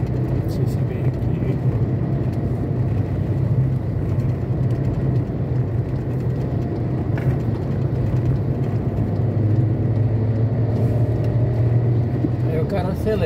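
A car travelling downhill, with a steady, continuous engine and road drone from inside the cabin for the whole stretch, while people talk over it.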